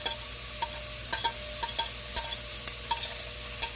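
A diced sweet Vidalia onion fries with a steady low sizzle in a hot pan, broken by repeated short clicks and scrapes of a utensil stirring it.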